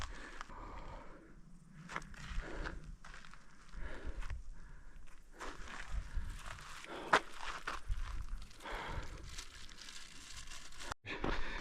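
Footsteps shuffle along a trail during an ultramarathon, a steady crunch of shoes on gravel and dirt under constant wind or handling noise, with no talking.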